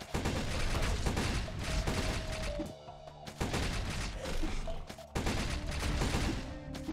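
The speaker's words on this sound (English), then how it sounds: "Those guys that shoot me from afar are super, super annoying." Ranged enemies fire on the player in the action game Blade Assault, dense rapid gunfire and impacts layered over game music, loud and continuous with brief dips, no talking.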